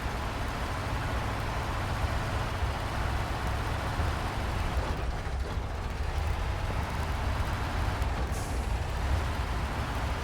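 A log truck engine labours steadily in MudRunner, a constant dense rumbling drone with no breaks, joined by a brief higher hiss near the end.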